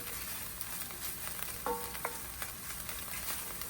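Garlic sizzles softly in oil in a pan while being stirred, a faint steady frying hiss with a few light clinks of the utensil, no voices.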